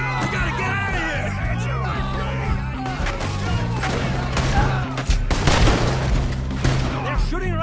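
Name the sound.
gunfire in a video game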